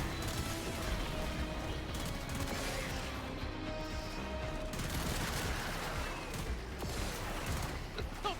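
Continuous gunfire in the video game Warframe, a dense, loud stream of rapid shots and impacts that carries on without pause, layered over busy mechanical game effects.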